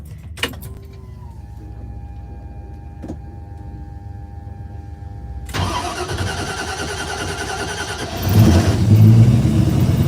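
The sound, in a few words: 1968 Ford Mustang engine starting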